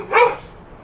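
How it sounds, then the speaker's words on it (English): A single sharp dog bark from inside a travel trailer, fairly loud and close but muffled by the walls, fading quickly into quiet. "There's a barking dog in there"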